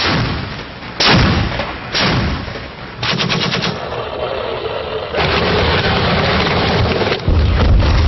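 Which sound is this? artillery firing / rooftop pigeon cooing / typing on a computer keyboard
artillery firing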